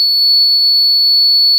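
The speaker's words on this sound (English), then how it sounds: "if you press device 1, the buzzer is turned on." Buzzer switched on through an Arduino-controlled Bluetooth relay, sounding a single loud, steady high-pitched tone that holds without a break from start to end.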